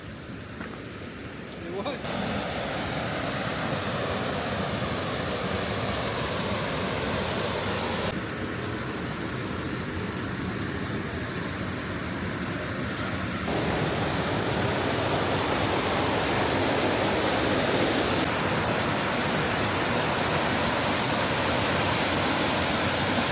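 Constant roaring rush of a waterfall in the Arkansas Ozarks, broad and steady throughout, with no breaks or distinct events.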